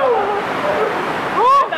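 Rushing water on a rapids ride churns and splashes steadily up close, with a louder surge toward the end; voices talk over the spray.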